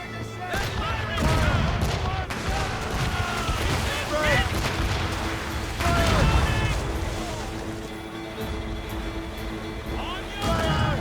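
Ships' cannons booming during a naval battle in Assassin's Creed Rogue, heavy blasts rolling out in clusters over wind and water noise, with shouted voices throughout.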